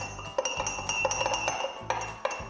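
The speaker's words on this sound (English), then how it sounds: "So red, and you only need a tiny amount, and give it a good stir." A spoon stirs red food colouring in a glass jug, giving quick repeated clinks and chimes of metal against glass, close and clear.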